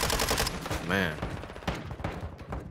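Submachine gun fire in Call of Duty: Modern Warfare II multiplayer, rapid bursts of shots crackling through a dense, busy game mix with other effects layered underneath.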